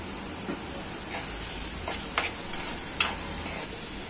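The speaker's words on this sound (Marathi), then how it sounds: "कांदा चांगला परतून घ्यायचा" Finely chopped onions sauté in a pan for a paneer and eggplant bharit, with a soft continuous sizzle and a few brief stirring scrapes and hisses, quiet and free of talk.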